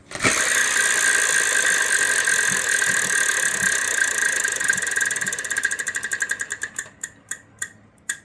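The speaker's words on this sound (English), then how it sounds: "we're going to ask David Graham to spin the wheel" A Wheel of Fortune prize wheel spins during a 1995 Walt Disney World game show episode, a loud rapid ratcheting of clicks that gradually slows into separate, widely spaced ticks before coming to rest, with no talking.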